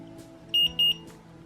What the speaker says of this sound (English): once the minimum volume of insulin has been reached, it's going to beep 2 times